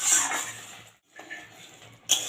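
Pieces of fried khoira fish go into a pot of boiling mustard curry, bringing a close clatter of pot and utensil with a brief sizzling splash, a short pause, then more scraping and a sharp clink at the end.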